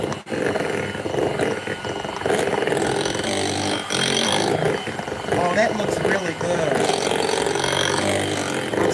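Electric mixer on high speed beating pound cake batter, a steady loud whirring drone running the whole time, with people talking over it.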